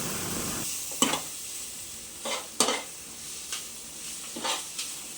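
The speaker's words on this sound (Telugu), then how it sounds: "అంతా బాగా మిక్స్ చేసుకోవాలి" A spoon scrapes and stirs gobi fried rice in a hot pan, sharp clanks against the metal every second or so over a constant oily sizzle, close and with no voices.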